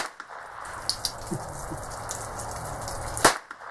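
A North American Arms Mini Mag revolver fires a few small, sharp cracks spread across a few seconds, fairly faint and distant over a steady outdoor background hiss.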